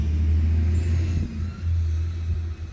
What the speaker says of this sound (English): Trash truck was going by.